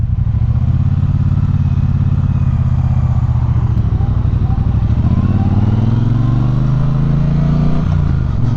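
A 2018 Triumph Bonneville Speedmaster motorcycle rumbles loud and close on a short test ride, its engine droning steadily and then rising in pitch as it accelerates near the end.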